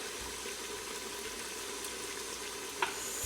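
Chicken stir-frying in a pot with spices for a chicken pulao, a steady close sizzle of frying under a faint stirring scrape, with one brief clink near the end.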